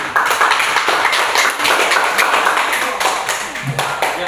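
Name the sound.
classroom applause for group 3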